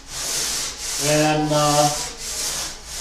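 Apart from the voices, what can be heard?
sanding wooden workpieces for a ukulele case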